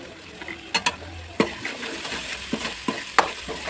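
Onions and tomatoes frying and sizzling in a pan while being stirred, with scattered scraping clicks of the spoon against the pan over a steady low sizzle, no voices.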